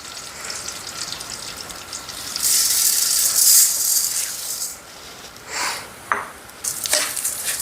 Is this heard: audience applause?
no